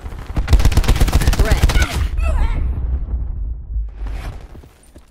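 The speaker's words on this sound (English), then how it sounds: "Cluster grenade." Cluster grenade detonations in Call of Duty Black Ops 4, a rapid loud rattle of overlapping explosive cracks that breaks off into a rumbling tail, then one fainter burst.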